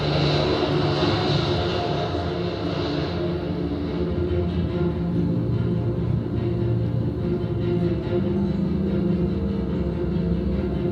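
An airliner taking off, heard as a steady, loud, broad engine roar and rumble that holds across the whole stretch, with no voices.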